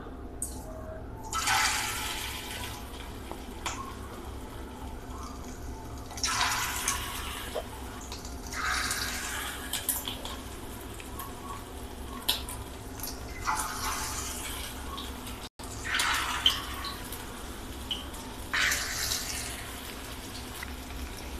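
Rice-flour chicken pakoras are lowered one at a time into hot oil, each drop bringing a fresh burst of sizzling over a low, steady frying hiss that continues between them.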